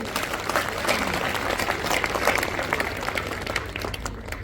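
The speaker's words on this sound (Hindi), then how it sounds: "ताली बजाओ सब उनके लिए।" Audience at a school function applauding its teachers, sustained crowd clapping at moderate distance, steady and even throughout.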